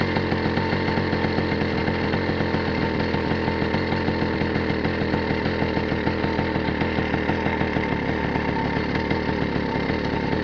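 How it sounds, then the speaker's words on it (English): Motorized bicycle engine idling while it warms up, a small single-cylinder putter with a fast, even, buzzy pulse running steadily and loud throughout. "So I just let it idle just for a little bit."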